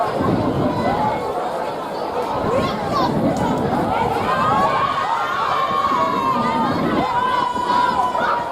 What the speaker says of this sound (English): the crowd is getting so ecstatic